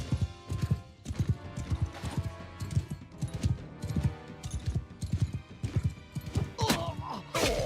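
Horses gallop in a cavalry battle video game, with dense, rapid hoofbeats and occasional clashing impacts layered into a busy, loud mix.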